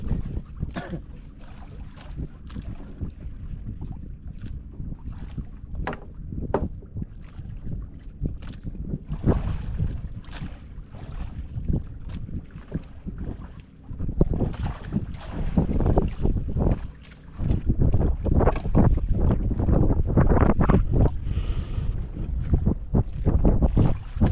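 Water sloshes and knocks steadily around a boat as one passes, with gusty wind buffeting the microphone and the churning growing louder toward the end.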